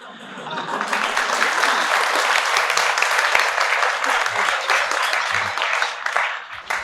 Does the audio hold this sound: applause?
yes